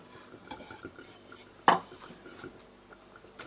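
A bowl is set down beneath a grain mill in a home kitchen, giving a single sharp ceramic clack midway through, close and fairly loud over quiet room noise and faint handling sounds.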